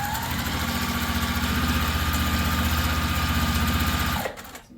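Sewing machine stitching quilt fabric pieces from a sampler project, a close, steady rapid mechanical chatter for about four seconds before slowing and stopping abruptly, no talking.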